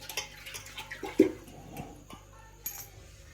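A small child, one of a pair of twins, plays with water at home, making scattered soft splashes, drips and small clinks, quiet and close, with brief louder splashes around the middle.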